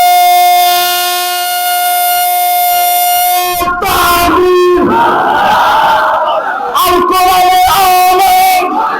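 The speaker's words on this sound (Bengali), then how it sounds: "তাকবীর হবে।" A large crowd at an Islamic religious sermon gathering roars the takbir chant in loud, sustained unison shouts that swell and repeat, following a held, horn-like tonal call at the start.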